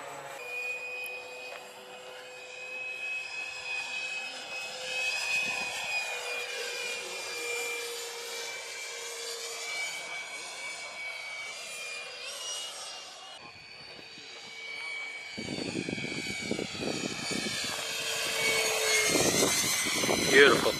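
A Durafly DH100 de Havilland Vampire RC model jet makes a flyby, its ducted-fan whine rising and sweeping in pitch as it passes, growing louder toward the end with wind rumble, heard outdoors at a flying field.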